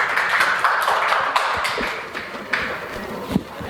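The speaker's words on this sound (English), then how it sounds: "let's give Mathieu a big round of applause" An audience applauds Mathieu, a speaker at a tech industry presentation, with a steady, dense patter of clapping that holds for several seconds at moderate loudness.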